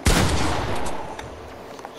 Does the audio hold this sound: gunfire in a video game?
yes